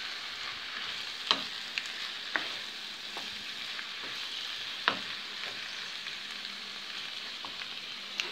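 Onions and potatoes fry in a pan for a pie filling, a steady broadband sizzle broken by a few sharp clicks and scrapes as a utensil stirs them, close and moderately loud, with no talking.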